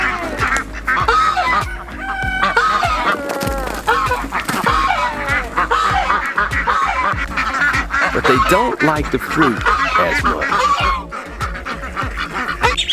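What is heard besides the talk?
ducks quacking and honking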